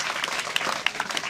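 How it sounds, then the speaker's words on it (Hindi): An audience at a prize distribution event claps steadily and loudly throughout the short stretch, a dense wash of applause. "ज़ोरदार तालियों से स्वागत कीजिए।"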